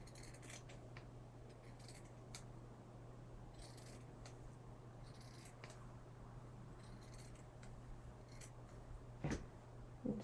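Scissors snip through a thrifted polo shirt in a few faint, scattered cuts, heard quietly over a steady low electrical hum.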